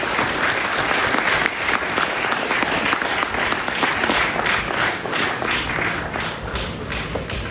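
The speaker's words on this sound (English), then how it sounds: "So let's have a round of applause for them." Loud, dense applause from a crowd at the inauguration of the Indian Sailing League at Umiam, steady sustained clapping throughout with no pauses.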